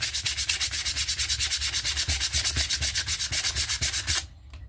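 Sandpaper rubbed by hand over a rusty variable speed pulley from a Troy-Bilt mower, a steady rapid back-and-forth scratching rasp that stays close and loud, then stops abruptly near the end.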